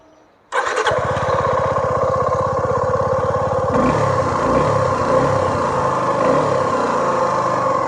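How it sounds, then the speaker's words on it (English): A Suzuki V-Strom 250 motorcycle engine fires up abruptly and settles into a steady, throaty idle through twin-can exhausts, close and loud, with a slight shift in tone midway. "Exhaust duty is being taken care by the twin can exhaust."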